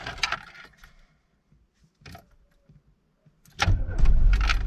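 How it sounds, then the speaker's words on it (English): Keys jingle and a few light clicks, then a 1991 Volkswagen Mark II Jetta engine cranks and catches, settling into a loud, close, rumbling run for the final second. "let's get a nice little startup"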